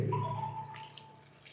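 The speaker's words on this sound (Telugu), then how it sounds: "ఇప్పుడు వాటర్ పోసుకుందామండి" Water is poured into a pot of country chicken curry, a brief close pouring sound with a faint ringing tone, with no voices.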